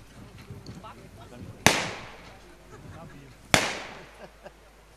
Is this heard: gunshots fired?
yes